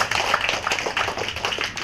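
Audience clapping at a community gathering in support of a local election candidate, a steady patter of many hands lasting throughout, moderately loud with no voices on top.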